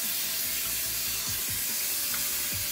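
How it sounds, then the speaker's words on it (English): Tap water runs steadily through the cap of a synthetic wig as it is rinsed under a sink, a continuous close splashing hiss with no talking. "I'll let some water run through it from the side of the cap just to give the cap a good rinse too."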